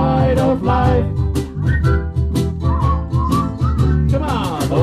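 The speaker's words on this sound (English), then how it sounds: "Just purse your lips and whistle, that's the thing." Melodic whistling carries a tune in a ukulele song performed by a ukulele group, a bright, clear line over strummed chords and rhythmic accompaniment, loud and close.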